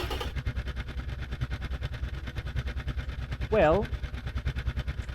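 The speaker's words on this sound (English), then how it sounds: "the idling noise, it's not that brilliant, of course, because of the high cam profile" A 12-cylinder twin-turbo engine with a high cam profile idles in the Automation car game, a rough, evenly pulsing mechanical throb that runs steadily throughout while someone speaks briefly over it.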